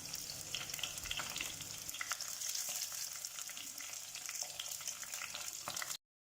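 Curry leaves sizzling in hot coconut oil, seasoned with a pinch of fenugreek powder, while a sardine and mango curry is being made: a steady, close crackling fry with a few sharper pops, no voices.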